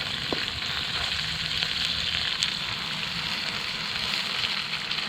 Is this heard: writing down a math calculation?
no